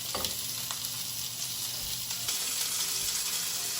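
Steaks sizzle and fry steadily in a hot pan over medium heat, a dense continuous crackle with occasional louder spits and a faint stirring or scraping now and then, no talking.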